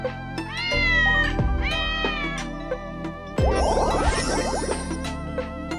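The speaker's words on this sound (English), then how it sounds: "Cat." A cat gives two clear, drawn-out meows close by, followed by a bright jingling, tinkling burst, with no talking.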